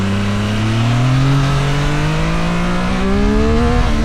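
A Triumph Street Triple 765 RS motorcycle engine revs hard and close, its pitch climbing steadily through the gear, with a second rising surge near the end.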